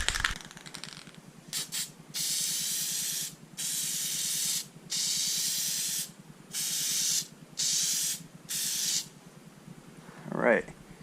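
Plasti-Dip rubber coating hisses from an aerosol can onto Hyundai badges in about eight steady bursts of a second or so each, with short pauses between, close and fairly loud, and a brief voice near the end.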